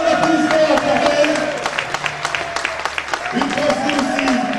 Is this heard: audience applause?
yes